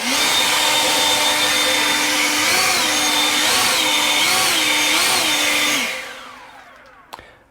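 EGO LB5302 cordless battery leaf blower running at turbo, a loud steady high whine and rush of air with the pitch wavering a few times, then spinning down and fading out near the end.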